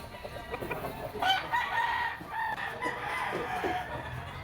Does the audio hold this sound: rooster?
yes